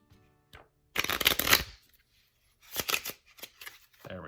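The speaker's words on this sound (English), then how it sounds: "Here's a good shuffle here." A Theory Eleven Artisans playing card deck is shuffled in two distinct bursts of papery riffling and snapping, separated by a pause of silence and followed by a few lighter taps.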